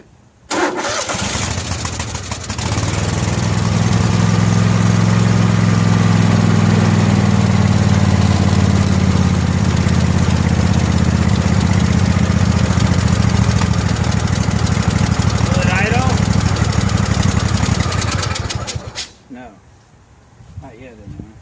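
A Craftsman 6500 garden tractor engine with the choke on catches and runs loud and close at a steady, rough idle for about sixteen seconds, then cuts out.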